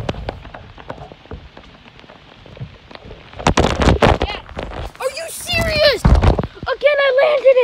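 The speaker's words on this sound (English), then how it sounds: "Stop raining a little bit." Rain patters down during a skateboarding session on a soaked board, a soft patter at first, then louder bursts of splashing and clatter. Several people talk and shout over it.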